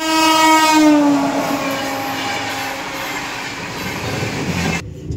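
A special passenger train from Hyderabad to Bihar rumbling along the tracks, its loud horn blaring at the start and fading, then a steady rolling rumble until an abrupt cutoff.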